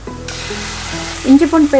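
Onions and ginger-garlic paste sauté in a hot pan for chicken gravy, giving a loud continuous sizzle with sharper bursts of frying near the end.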